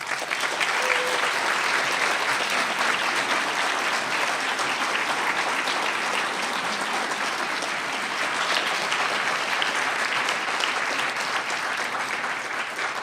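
Sustained applause from a lecture audience honoring a speaker at a talk, steady and dense clapping filling the whole stretch at an even level with no talk over it.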